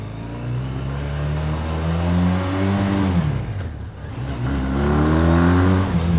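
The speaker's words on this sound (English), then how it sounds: "And this engine likes to rev." A Ural Neo 500 motorcycle engine revs hard and climbs through the rpm range, dips briefly, then winds up again, loud and close with no talk over it.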